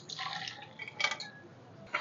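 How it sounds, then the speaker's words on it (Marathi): Hot water pours and drips off soaked soya chunks as it drains away in a kitchen, with a quiet, brief trickle and a few splashes close by. "आपण सोया चंक्स मधलं पाणी काढून टाकायचं आहे"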